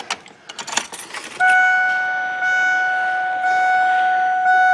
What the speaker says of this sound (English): I'm gonna turn the ignition on